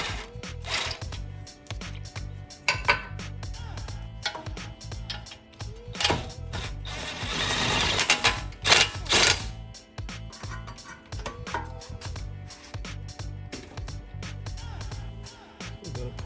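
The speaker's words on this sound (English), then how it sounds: "Now I'm gonna get my trusty impact. Take this off." Impact wrench removing brake rotor bolts on a 2016 Audi A6, a series of short mechanical bursts and rattles with clanks of tools and parts, close by in a garage, with no talk.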